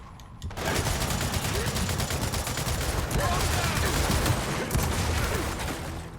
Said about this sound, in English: shotgun makes short work of it